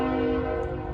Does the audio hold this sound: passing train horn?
yes